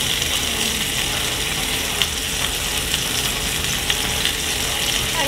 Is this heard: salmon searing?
yes